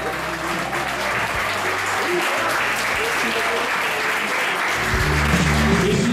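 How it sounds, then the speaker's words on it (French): Audience at the Miss New Caledonia gala applauds in a long, dense, steady wash of clapping, with a faint voice and some tonal sound running underneath. "On l'applaudit encore bien fort"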